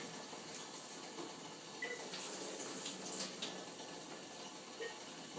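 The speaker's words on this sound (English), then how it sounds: "I'm going to pour some water out here" Piping hot water poured from a tea kettle for brewing coffee, a steady, soft splashing trickle lasting several seconds with small swells, fairly quiet with no voices.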